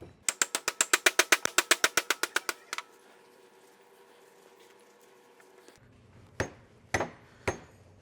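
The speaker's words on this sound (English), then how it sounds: "I like to use a rubber mallet to kind of get it started" A rubber mallet taps a part into place during a grout pump rebuild, landing a rapid, even run of about twenty sharp, close knocks, then stopping. Quiet hum follows before three isolated louder thumps.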